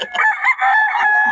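An old gamecock rooster crows once, a short loud close call on its own.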